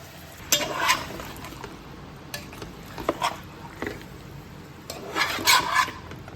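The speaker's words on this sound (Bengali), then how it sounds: "এখন আমি ম্যারিনেট করা চিকেনটা এর মধ্যে দিয়ে দেবো" Marinated chicken is stirred into browned onions for a biryani, with bursts of scraping and rubbing of a spatula against the pan over a quiet sizzle, several distinct stirring strokes spaced across the stretch.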